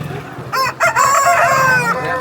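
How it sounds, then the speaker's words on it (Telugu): A quality rooster of about 3 kg crows at a rooster market in Vijayawada, one loud, close, drawn-out call with a rising start and long wavering tail. "ఈ పుంజ అయితే చాలా బాగుంది క్వాలిటీగా."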